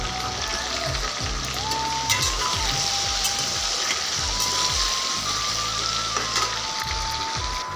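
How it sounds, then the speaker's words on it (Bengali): Potato pieces frying in hot oil with a little salt and turmeric make a dense, continuous sizzle close by, with a faint tonal hum underneath and no talking. "দিয়ে আলুটাকে ভেজে নেব ভালো করে।"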